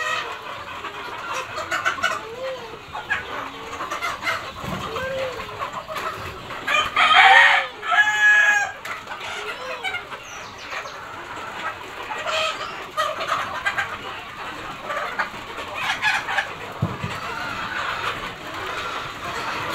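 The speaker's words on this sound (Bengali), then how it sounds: "দেখেন মুরগি ভাগ ভাগ করে খাচ্ছে তারা।" Chickens at a poultry farm clucking steadily while pecking at feed trays, with a loud rooster crow rising near the middle among scattered nearby calls.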